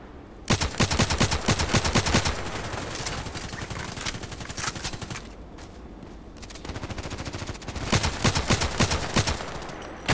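Rapid gunfire bursts in the shooter game Contract Wars, dense repeated shots in two clusters with a quieter stretch between, loud and close with game ambience.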